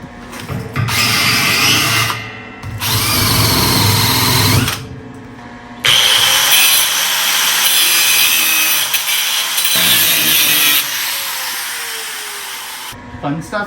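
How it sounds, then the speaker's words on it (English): A wire wheel grinding metal during a trike build, a harsh, loud, scratchy whir in several long bursts with short pauses between them, close and unbroken by talk. "Death by wire wheel."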